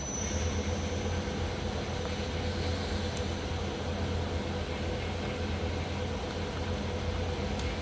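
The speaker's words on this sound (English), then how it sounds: "now we're going to run the main spindle, 500" Miyano BND51C CNC lathe with its main spindle turning at 500 RPM, a steady machine hum and broadband whir that holds constant throughout, with a faint high whine on top.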